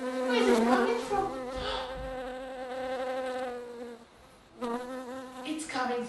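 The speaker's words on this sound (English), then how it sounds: "it was a bee making that noise" A bee buzzing close by, a steady loud drone that wavers in pitch, briefly drops away, then returns strongly.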